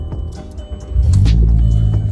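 A Mk4 Volkswagen Jetta's engine rumbles as the car pulls away, the low drone swelling to a loud, steady roar about halfway through, heard close with no talking.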